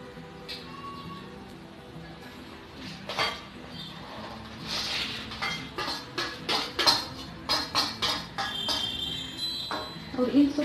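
Chopped dried fruits, raisins, tutti frutti, cherries and finely chopped dates are mixed together in a bowl for a plum cake. A spoon clinks and scrapes against the bowl in a string of light, close taps, with a faint low murmur underneath.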